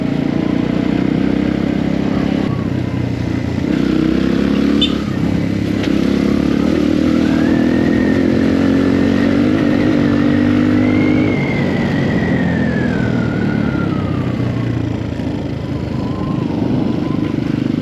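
A small enduro motorcycle rides a dirt track near Antsirabe, Madagascar, its engine droning loud and close throughout with shifting revs and rattling clatter.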